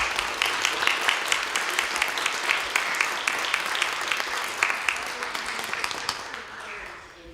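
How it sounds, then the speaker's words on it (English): Sustained applause from a crowd honouring a retiring parish nurse at a nurses' association event at Queen's Park, dense steady clapping that thins and fades out near the end. "Let's give her a round of applause"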